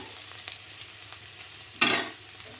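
Broad beans (chikkudukaya) fry in a pan while being stirred. A soft, continuous sizzle is punctuated by light spatula taps and one louder scraping stir near the middle.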